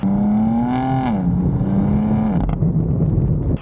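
BMW M4 F82 engine pulling hard under acceleration, a loud, close, rising tone with an upshift dip midway, then a further climb before it cuts off sharply at the end.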